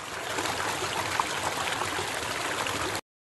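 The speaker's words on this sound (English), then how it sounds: "When a river flows over a cliff, it creates a waterfall." A waterfall pours over a cliff as a dense, steady rushing roar, loud and close, cutting off abruptly after about three seconds.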